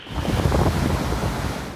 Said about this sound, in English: the strongest winds in a century lashed Puerto Rico